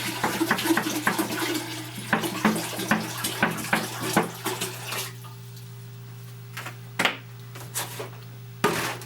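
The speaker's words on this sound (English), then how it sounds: "add distilled water to a 5-liter beaker" Distilled water poured from a container into a 5-liter beaker, with splashing and gurgling bursts, dripping and intermittent pouring close by over a steady low hum.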